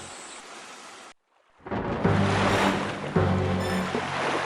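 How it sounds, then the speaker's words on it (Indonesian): Sea waves and strong wind wash around a ship on open water in an animated storm scene, a loud rushing roar that drops out briefly, then surges back with layered splashing and gusts. "Ketika berada di tengah lautan, seketika itu angin bertiup kencang dan menggoyangkan sebagian badan"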